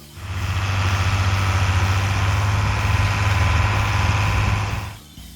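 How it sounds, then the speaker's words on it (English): A John Deere 4020 tractor's six-cylinder engine runs steadily with a deep, loud low rumble for about five seconds, then cuts off abruptly near the end. "The deep tone of its 6-cylinder engine carried far across the cornfields"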